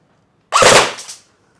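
An electric airsoft gun fires in burst mode: one quick, sharp, close volley of a few rapid cracks blurred together, lasting under a second between stretches of silence.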